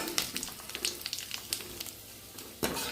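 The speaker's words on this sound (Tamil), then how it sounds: "இப்போ ஃபைனலாக நல்லா பொறிச்சு சிக்கன் சிக்ஸ்டி ஃபைவ் சுவையாக தயாராகிடுச்சு" Chicken 65 pieces frying in hot oil, a quiet crackling sizzle with scattered sharp pops and bubbling bursts, close and fairly soft, with no voices.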